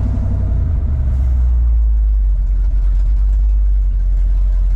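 Ford 302 V8 in a junkyard truck with Holley Sniper EFI idling at about 650 rpm after a timing adjustment, a loud, steady low rumble close to the engine.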